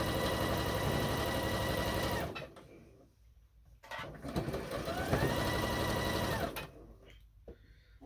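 A sewing machine stitches borders onto a quilt top in fast, even bursts, running steadily, pausing briefly, then starting up again, close and clear with no talking.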